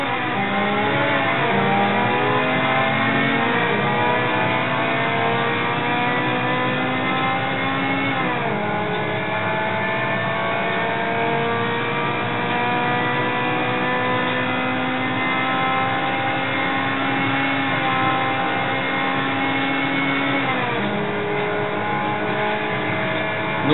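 Race car engines in Real Racing 2 HD on iPad roar steadily and loudly throughout, climbing in pitch through repeated gear shifts with sharp drops at each change, no voices over it.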